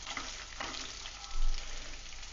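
Split onions sautéing in a pan until golden, for coriander rice: a short, even frying hiss with a brief louder swell near the middle and no talk.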